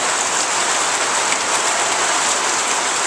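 Heavy rain pours down in the Amazon, a dense, continuous hiss of drops drumming on surfaces close by, loud and unbroken with no voices.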